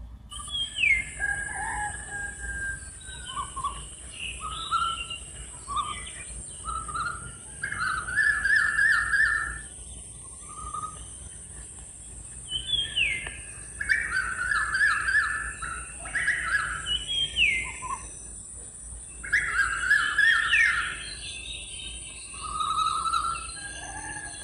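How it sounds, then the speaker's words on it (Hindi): At dawn, roosters crow in long rising calls and birds call and chirp in repeated bursts over a quiet rural background, with no one speaking. "पेड़ पर पक्षियों के चहचहाने की आवाज़ आ रही है।"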